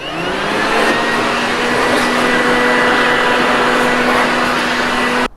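A Worx WG583E.9 40V MAX brushless leaf blower runs steadily at close range, a loud continuous whooshing roar with a constant motor whine throughout, cutting off abruptly at the end.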